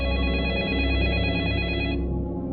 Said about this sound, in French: Anne-Marie reçoit un nouvel appel sur son portable